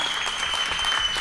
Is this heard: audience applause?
yes